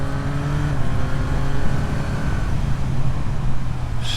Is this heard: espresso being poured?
no